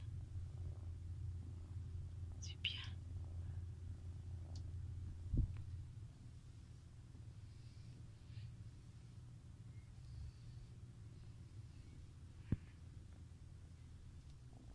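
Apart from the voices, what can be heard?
cat purring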